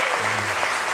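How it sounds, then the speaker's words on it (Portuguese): Children being applauded by a group, a brief burst of steady, close handclapping. "Vamos dar uma salva de palmas para essas crianças que estão ao lado de cá."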